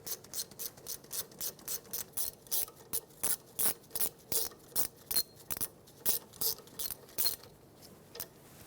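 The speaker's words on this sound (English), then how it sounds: "Let's tighten these up, 14mm socket or wrench." A socket wrench ratchets in a quick, regular series of about twenty sharp clicking strokes while tightening brake caliper bolts on a 2013-2020 Nissan Pathfinder, close and clear with a faint hum beneath.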